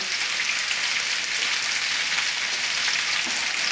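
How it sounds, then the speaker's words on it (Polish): Steady, dense sizzling and crackling of potatoes frying in a pan, loud and continuous with no voices. "No i smażymy."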